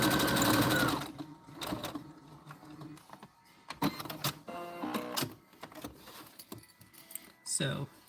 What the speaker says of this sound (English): I will backstitch just to reinforce this a little bit